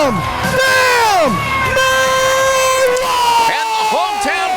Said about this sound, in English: And the hometown crowd in Forney, Texas goes wild.